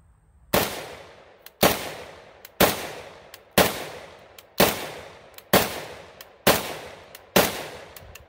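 An AK47 rifle fires eight evenly spaced, sharp, loud shots at a target, each crack followed by a short decaying echo, with no talk over them.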